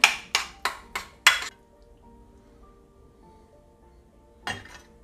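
A utensil clinks against a bowl while drained pasta is stirred with salt: five quick metallic taps in a row, then a quiet pause and one more clink near the end.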